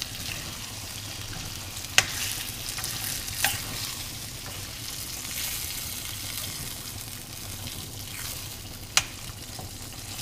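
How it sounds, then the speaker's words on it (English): Fruit preserves melting and caramelizing in a hot pan with salsa chicken, stirred with a steady soft sizzle and a few sharp utensil clicks against the pan, no talking. "I'm going to stir this up a bit."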